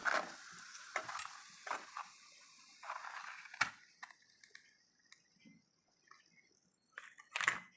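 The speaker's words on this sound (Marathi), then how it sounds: "गरम तेल झालेलं आहे आणि त्यामध्ये आपण काय करूया ज्वारीची पापडी तळून घेऊया" Sorghum papad fries in hot oil with a faint, crackling sizzle, punctuated by sharp intermittent clicks and taps from a utensil, quiet and close.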